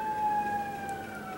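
A fire truck siren holds a steady, sustained wail at moderate distance, a brief continuous tone with faint traffic rumble beneath it.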